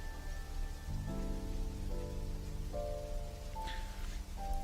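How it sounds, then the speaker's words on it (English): Thunderstorm rain in the video game Anode Heart, a continuous hiss of rainfall layered under sustained game music notes, with no distinct thunder cracks. "This thunder and lightning is so loud."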